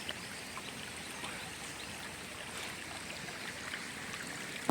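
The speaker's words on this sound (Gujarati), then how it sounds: "આ પાણી જાય છે ધોરિયા." Water running along an irrigation channel on a farm with date palms, a faint, steady trickling and burbling flow with no voices, continuous throughout.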